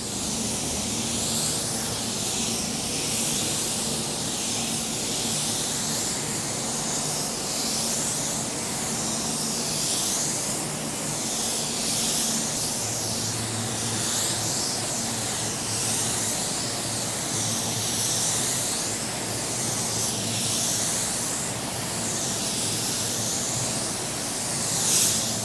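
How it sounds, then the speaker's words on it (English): A spray gun lays base coat paint onto a car bumper with a steady, close hiss that pulses in repeated even passes, alone and without talk. "I spray my first coat down"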